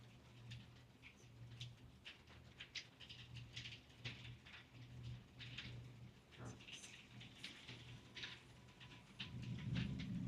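Heavy rain pours down outdoors in a steady, dense hiss, faint and distant, with scattered sharper splashes and a low rumble building toward the end.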